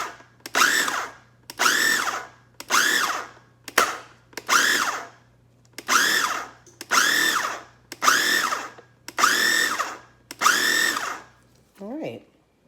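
Ten short, loud whirring bursts from a food processor pulsing sugar, flour and salt for a cheesecake crust, evenly spaced with brief silences between, and a final quieter blip at the end.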